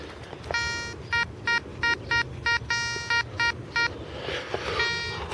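Metal detector giving a series of short, repeated electronic beeps as it signals a possible aluminium find, about a dozen evenly pulsed tones over outdoor background noise.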